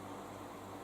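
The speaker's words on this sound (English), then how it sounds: "Sorry about the fan" A steady, low whirring fan hum with broadband airy noise, constant and unchanging throughout, with no voices.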